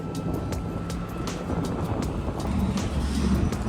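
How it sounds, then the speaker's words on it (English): Strong wind sweeps across an oceanfront construction site, a steady rushing roar with repeated gusty thumps buffeting the microphone throughout. No one talks. "Hopefully you can hear me over all this wind. It is an extremely windy day today."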